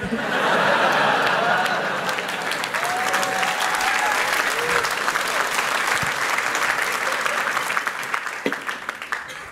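Loud applause from a festival audience at a talk, dense crowd clapping that is strongest at first and tapers slightly toward the end, with faint laughter and a brief voice underneath.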